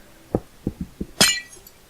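Several soft clinks sound in Minecraft as glass blocks are placed or hit, followed by one sharp, bright shattering burst as a glass block breaks, each sound brief and close.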